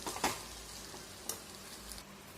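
Egg noodles being mixed in a hot pan make a brief sizzle, with sharp scrape-and-toss sounds from the utensil at a couple of points, near and without speech.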